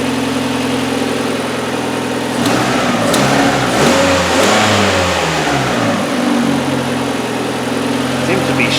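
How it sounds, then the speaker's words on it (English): A Hyundai Elantra engine with an idle-speed fault idles, then is revved a couple of times, the note climbing and falling back in loud, close surges before settling to a steady idle. "Yep, that's why I gave it a couple rev ups."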